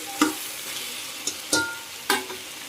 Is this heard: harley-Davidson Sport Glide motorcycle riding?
no